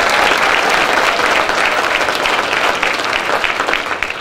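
Sustained applause from a school audience at a fourth-grade Annie Jr. musical, honoring the student pianists: dense, steady clapping that fills the hall at an even level from start to finish, with no talk.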